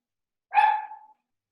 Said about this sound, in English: Miniature poodle. Ah, okay. Yeah, you got it. You can tell in the bark.